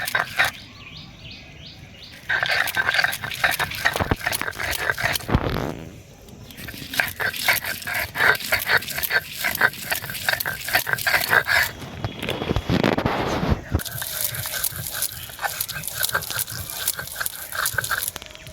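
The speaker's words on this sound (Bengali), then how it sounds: "ধনেপাতাটাকে এবার বেটে নেব। ধনেপাতাটাকে আমরা মিহি করে বাটবো না," Fresh coriander leaves being lightly and coarsely ground on a stone grinding slab for coriander pickle: steady back-and-forth rubbing and scraping strokes, close and fairly loud, with no talking.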